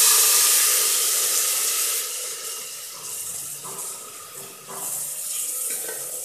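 Onions frying for a dry chana masala sizzle steadily in a pan over a low flame, giving a continuous close hiss that rises and falls slightly as they are stirred.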